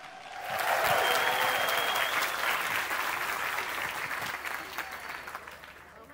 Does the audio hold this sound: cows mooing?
no